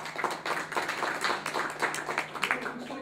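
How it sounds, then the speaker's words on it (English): Scattered clapping from a small audience at a community voting meeting, a modest round of applause for a presenter from Labor and Industry with a voice faintly mixed in. "So give him a round of applause."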